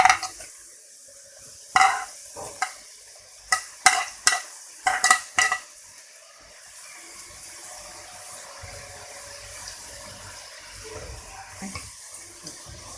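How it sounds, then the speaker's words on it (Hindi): Maida dough for chak chak fried in hot oil: a run of loud, sharp clatters and scrapes of a utensil in the first half, then a soft, steady frying hiss that carries on quietly to the end. "इसमें ऑयल डाल के उसको फ्राई करेंगे मैदा को"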